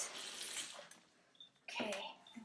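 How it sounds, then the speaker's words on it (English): Water runs from a tap as bare feet are rinsed off, splashing gently and unevenly, quiet and close, with a short break before the flow picks up again. "let me rinse my toes first because you're kind of slimy from the egg white"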